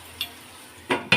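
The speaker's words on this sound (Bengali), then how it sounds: "আমি চিকেনটা কষিয়ে নিচ্ছি।" Chicken being stir-fried dry in a pan without water, heard as two or three quick, close scraping stirs over a faint background sizzle in a short burst.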